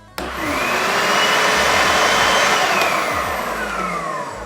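A Bissell Little Green vacuum and cleaner switches on with a sudden start and settles into a loud, steady whirring motor roar that holds evenly for several seconds before easing slightly.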